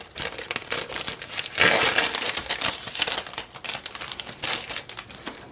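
Plastic bag from a Cloth & Paper subscription box crinkling and rustling continuously as it is opened by hand, close and fairly loud, with a denser burst of crackling midway.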